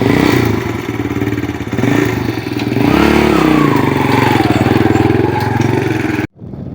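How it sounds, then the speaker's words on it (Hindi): A motorcycle engine runs steadily and loudly throughout while riding, with a broad rumbling drone that swells slightly in revving, then cuts off abruptly near the end. "मोटरसाइकिल मैंने यहाँ पे साए पे खड़ा कर दिया"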